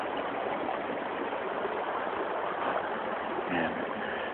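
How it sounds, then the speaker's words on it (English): A woodland stream where two streams join into one, a steady close wash of flowing, gurgling water filling the scene with no break or talking. "Right here, it's just two streams forming one."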